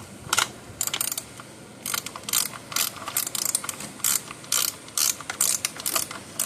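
A wrench ratchets on a bolt of an old PEL 100 electric fencer, a close series of short, sharp clicking bursts in an uneven rhythm, each a quick run of ratchet clicks with brief pauses between strokes.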